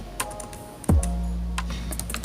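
Typing a network command on a computer keyboard: a few light key taps followed by a firm press of a key, close and clear, over a steady low electrical hum, with no talk.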